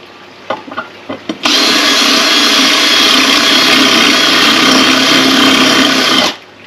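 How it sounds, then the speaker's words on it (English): After a few brief clicks, a power drill whines loudly and steadily for about five seconds drilling into textured wall tile, then stops abruptly. "This takes a lot more drilling because of the texture on the surface."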